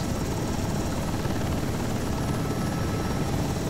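A UH-60 Blackhawk military helicopter hovers in Microsoft Flight Simulator, a loud, steady rotor and engine drone with a continuous broadband roar and faint high whine, unbroken and with no talking.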